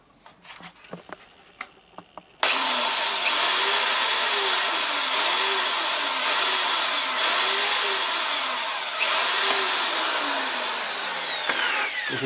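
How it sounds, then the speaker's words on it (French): A small drill bit bores through a licence plate for a 2004 Toyota Avensis. A few light knocks come first, then the drill starts abruptly with a loud, sustained high-pitched whine that wavers slightly as it cuts, close by. "je vais percer directement avec ce foret là, avec ce petit foret"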